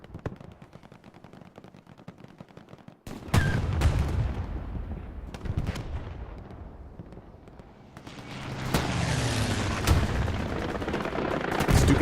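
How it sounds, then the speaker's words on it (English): A Stuka dive bomber's bomb explodes in the World War II shooter Hell Let Loose during a competitive match at Carentan town center, near a Sherman Jumbo tank. Faint scattered gunfire gives way to a sudden loud blast and a long rolling rumble, with further gunfire and booms. "Stuka lands to the right of the Jumbo 76"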